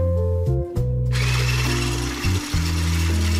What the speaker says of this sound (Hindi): ये मेरे पास एग बीटर है, इसके साथ हमने इसको उतनी देर तक मिक्स करते जाना है जब तक ये थिक नहीं